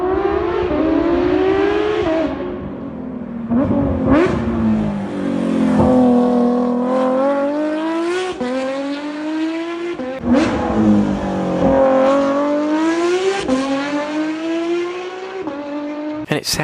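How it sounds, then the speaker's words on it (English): A Porsche 992 GT3 RS engine revs hard and loud, climbing and dropping in pitch through repeated high-revving pulls with brief gear changes in between. "this is what the 992 GT3 RS sounds like"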